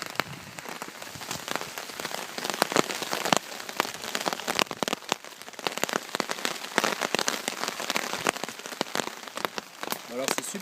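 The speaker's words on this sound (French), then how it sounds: "Et c'est reparti pour la pluie." A light rain shower at a bushcraft campsite, a dense, constant patter of drops striking a nearby surface, with sharper individual taps throughout.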